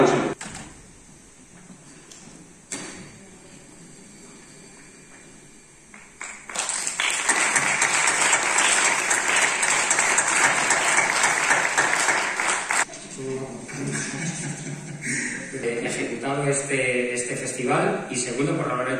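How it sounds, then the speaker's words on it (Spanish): Audience at a short film festival awards ceremony applauding the winners of a short film prize. Quieter sounds and a voice come first, then a loud, dense burst of clapping lasts several seconds before fading under talking. "Fuerte aplauso."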